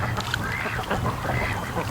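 Muscovy ducks outdoors near a boat, giving soft, continuous low honking and hissing calls that stay steady and moderately close throughout.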